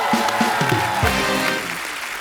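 Studio audience applauding actress Raveena on The Kapil Sharma Show, loud steady clapping from a large crowd with a few low thumps in the first second, easing slightly toward the end.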